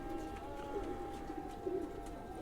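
A khaki chua pigeon, a cross-bred fancy breed, coos softly in low repeated notes close by, alone against a quiet hum.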